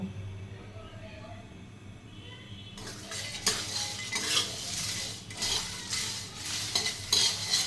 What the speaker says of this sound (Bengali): এখন এইগুলি কড়াইতে একটু গরম করে নিব।